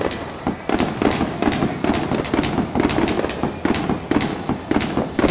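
Rapid, dense crackle of fireworks at an Arkansas college baseball game, loud popping bursts that come in quick succession and run continuously.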